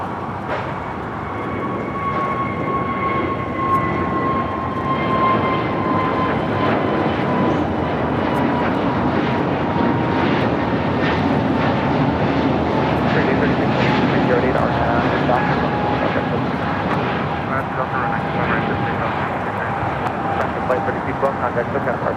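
Airliner taking off from the south side of LAX, a loud continuous jet engine roar with rising whine tones that swells and holds steady throughout.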